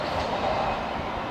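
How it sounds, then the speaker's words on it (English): An InterCity2 train rumbles steadily past on a railway bridge at close range, a continuous broadband roar with a faint rhythmic rattle of wheels, loud and unbroken throughout. "It's the InterCity train."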